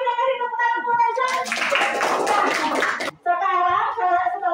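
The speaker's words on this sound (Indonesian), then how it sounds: "Ya, silakan tepuk tangan Reza." A classroom of students clapping for a classmate, a burst of applause lasting under two seconds in the middle, framed by children's voices and a teacher talking before and after.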